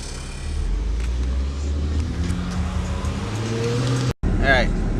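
A car with a newly installed air conditioner drives along, its engine hum and rising gear tones steady and close, cut off briefly before resuming, with people talking over it.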